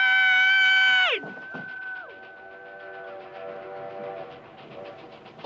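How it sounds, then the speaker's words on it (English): A train approaching on railway tracks in a 1986 movie scene sounds its horn in a loud, sustained blast that suddenly drops in pitch, and then fainter tones hang on under a low rumble. "Train!"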